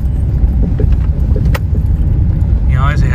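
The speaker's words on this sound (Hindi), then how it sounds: "अब गाड़ी के शॉकर ठप ठप ठप ठप कर रहे हैं पूरे।" A car rolls over a rough road through jungle near Perch Dam, Chandigarh, its shock absorbers thumping in a continuous low rumble with scattered knocks and rattles, close and loud.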